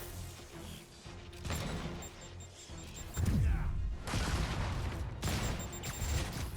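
A chain gun firing in the Spider-Man PS4 video game, with bursts of rapid, heavy gunfire and crashing impacts that grow louder and denser toward the end, amid game music and effects.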